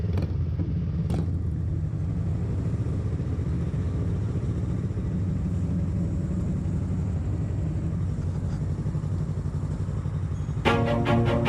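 Car driving along a road on a trip from Kaeng Khoi to Saraburi, a steady low engine and road rumble heard from inside, with a brief rattling burst near the end.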